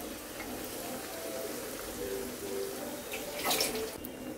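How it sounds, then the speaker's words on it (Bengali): Bread pieces frying in oil for chicken bread candy, cooked two at a time, giving a soft, steady, faint sizzle with a brief louder flare near the end. "এখন পাউরুটিরগুলো ভেজে নিব।"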